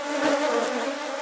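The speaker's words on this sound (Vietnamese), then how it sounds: "khi những đàn ong này nó rất là hung, rất là dữ" An aggressive honeybee colony in a beekeeping setting, a dense, steady, loud buzzing of many bees close to the microphone with no talking.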